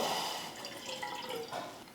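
Water, about 50 ml, pours in a continuous splashing stream, fairly close, with a soft liquid gurgle shifting slightly as it flows, while making sakkarai pongal.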